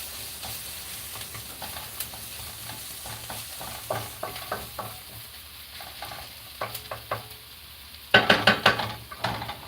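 Breaded chicken-style pieces frying in a pan for a curry, a low steady sizzle broken by scraping stirs and clatters, rising to a louder spitting burst near the end.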